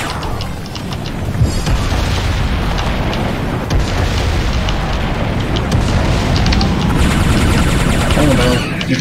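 An enemy in the video game Bloodsugar fires explosive projectiles, producing dense, continuous booms and blasts that stay loud for the whole stretch, with a voice talking over the chaos.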